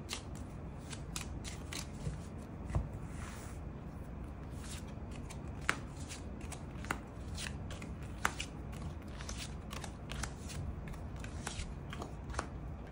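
Tarot cards are shuffled and drawn in a run of crisp, papery riffles and snaps. They are close and fairly quiet and repeat irregularly throughout, with no voices.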